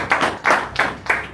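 A conference audience claps four times in quick unison, each beat sharp and evenly spaced in a brief rhythmic burst.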